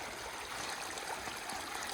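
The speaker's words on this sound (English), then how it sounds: "Far out doesn't say that there's a stream right here." Rainwater flows steadily down a trail on the Appalachian Trail, a continuous close trickling rush with no voices over it.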